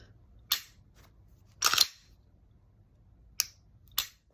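Crisp clicks from a Glock 47 MOS pistol's Pro trigger, four sharp snaps spaced irregularly with one doubled click, close and clear over a quiet background.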